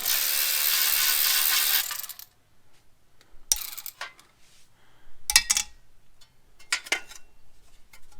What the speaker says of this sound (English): Now take a 10mm, take these 3 bolts for the dust shield off.